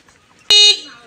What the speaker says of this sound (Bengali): 2টা হর্ন দাও যাতে বাড়ির লোকজন শুনতে পারে